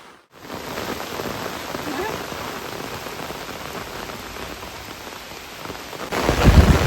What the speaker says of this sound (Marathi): काय टायमार पाऊस येत आहे बघा